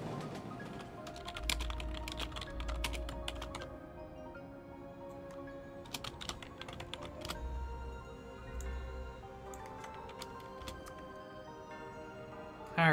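Computer keyboard clattering in bursts of fast typing, sharp clicks clustered in a few flurries with quieter gaps between them, heard close up in a quiet room.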